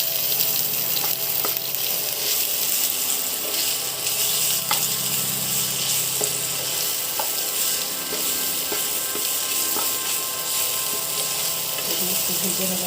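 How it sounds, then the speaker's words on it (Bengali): Ginger and turmeric powder fry lightly in a pan for a Bengali-style pumpkin curry, giving a steady, close sizzle with occasional stirring scrapes throughout, and no one talks. "একটু ভেজে নেবো হালকা।"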